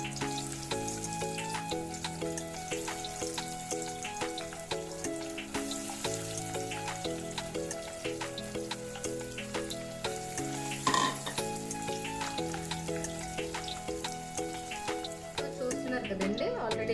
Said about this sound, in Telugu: ఇవన్నీ ఇలా మిక్స్ చేసుకొని ఇలా లైట్గా ఫ్రై చేసేసుకోవాలండి